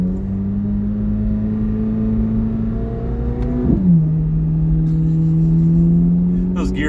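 A Chevrolet Corvette C8 Z06 engine drones loud and steady from inside the car, then drops in pitch at a quick gear change and pulls again, with brief voices near the end.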